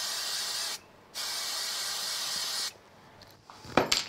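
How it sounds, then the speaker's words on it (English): Spray glue hisses from an aerosol can onto the back of a white card, two steady bursts with a short pause between, followed by a brief rustle of handling; no talking. "I'm going to spray the back of the white with some spray glue"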